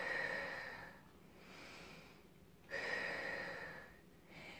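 Slow, deep breathing during a relaxation exercise: two long, soft airy breaths rise and fall close to the listener, quiet and unhurried, with no talking.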